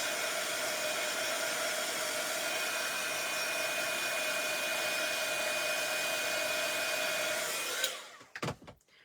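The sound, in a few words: heat gun drying ink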